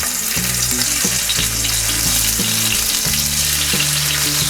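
Prawns coated in salt and turmeric fry in hot oil, giving a steady, bright sizzle with a few light clinks of stirring.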